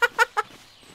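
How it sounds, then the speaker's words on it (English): A bird in the video game Darco - Reign Of Elements squawks three times in quick succession, sharp and close, like clucking fowl, then falls quiet. "Is that an actual bird or is that a mechanical bird?"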